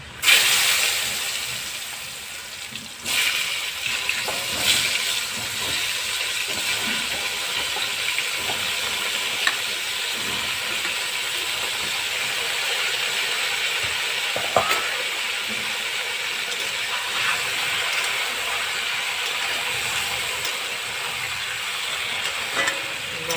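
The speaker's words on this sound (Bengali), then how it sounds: "এই তেলের মধ্যে পটলটা ভেজে নেব" Pointed gourd (potol) fries in hot oil in a pan where a fish head was just fried, giving a steady loud sizzle and hiss with occasional stirring scrapes, no talk.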